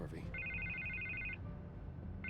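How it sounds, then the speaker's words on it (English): Telephone ringing in the Batman: The Telltale Series game, a bright electronic double-tone ring lasting about a second, starting again briefly at the end, under low background sound and speech. "I can't get the phone to stop ringing"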